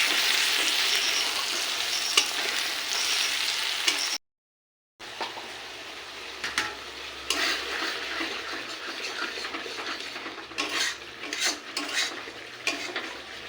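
Chicken frying in a pan makes a steady, close sizzle with occasional stirring and utensil scrapes, broken by a brief silent gap.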